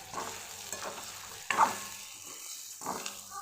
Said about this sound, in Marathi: आपल्या सोयाबीनच्या वड्या हे आपण पूर्ण अशा मिक्स करून घेणार आहे